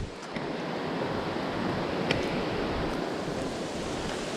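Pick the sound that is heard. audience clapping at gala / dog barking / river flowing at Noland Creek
river flowing at Noland Creek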